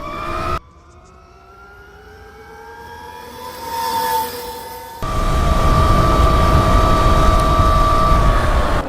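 A cheap electric dirt bike in race mode on a top speed run, its motor whine rising in pitch as it accelerates, then giving way to loud steady wind rush and a high electric hum, no talk.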